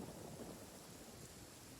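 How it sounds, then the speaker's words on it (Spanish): Rain falls in the video game Genshin Impact, a faint, steady wash of broadband noise with a low rumbling undertone, with no voices over it. "Se pone a llover."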